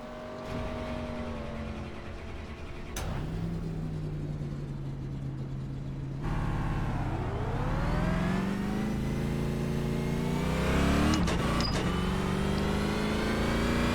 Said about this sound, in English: Wait for the pace car, fire the car back up.